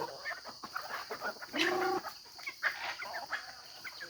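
Several chickens cluck nearby in short irregular bursts while being fed corn, with one drawn-out higher squawk in the middle over faint background hiss.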